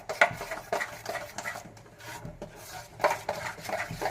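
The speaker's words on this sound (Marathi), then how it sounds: "हळद टाकून ना छान असं मिक्स करून घ्यायचं म्हणजे थोडंसं फेटून घ्यायचं" A whisk or spoon works turmeric into batter in a bowl, giving close, rhythmic scraping and clinking strokes against the sides with no talking.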